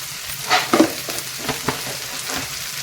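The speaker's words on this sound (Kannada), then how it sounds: "ಇದೆಲ್ಲ ಈಗ ಎಣ್ಣೆಯಲ್ಲಿ ಫ್ರೈ ಆಗಬೇಕು" Fenugreek leaves frying in oil for a maize paratha filling, giving a soft steady sizzle with a few louder stirring scrapes near the start, close and without speech.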